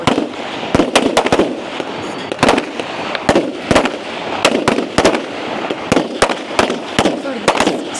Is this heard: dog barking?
no